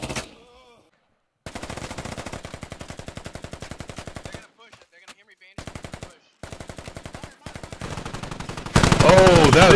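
Automatic rifle fire in the military shooter Squad, aimed down through a floor, comes as loud, close, rapid bursts separated by short pauses, with a voice briefly heard at the end.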